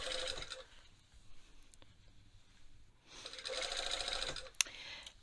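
A sewing machine stitches along a pointed front neckline of a garment in two close, rapid bursts, one short and one longer, separated by a quiet pause.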